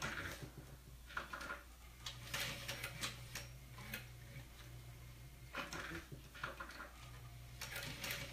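A sewing machine stitches a vinyl pouch in short runs, a quiet, rapid mechanical ticking that starts and stops in several bursts with soft handling noises between.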